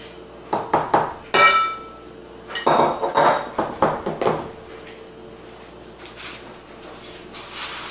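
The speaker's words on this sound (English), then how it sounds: "I have a loaf pan that I've sprayed. We're just going to add the batter." Pumpkin bread batter is scraped from a bowl into a greased loaf pan, giving a series of close metallic clinks and scrapes in quick bursts before the sound fades to quiet.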